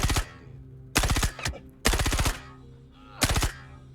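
Submachine gun fire in the video game Star Citizen: four short, loud, rapid bursts of automatic shots, close up, with brief pauses between them.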